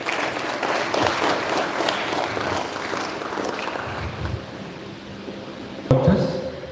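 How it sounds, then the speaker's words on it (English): A live audience at the official launch of the Africa WIKI Challenge 2025 breaks into a dense, steady round of applause that carries on for several seconds, then thins out toward the end. "A big round of applause."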